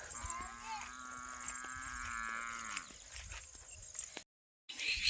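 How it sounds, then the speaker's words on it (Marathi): A cow lows in a long, drawn-out moo for a few seconds, then fades into quiet outdoor background before brief noise returns. "वरडायला लागली ती गुरं आता"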